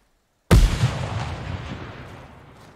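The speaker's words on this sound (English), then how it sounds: "Grenade going out over this hill." A grenade explodes over a hill in the tactical shooter game Ground Branch: one sudden heavy boom with a deep low thump, then a rumbling tail that fades over about two seconds, with no voices over it.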